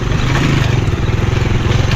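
A motorcycle engine runs steadily on a rough, long rural road, its low rumble joined by rattling clatter from the bumpy surface, close and continuous throughout.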